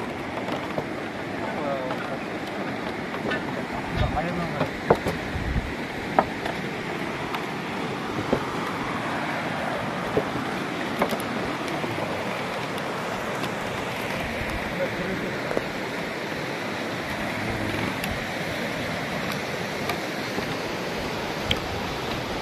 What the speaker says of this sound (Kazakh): Өзен күшті, ағысы күшті.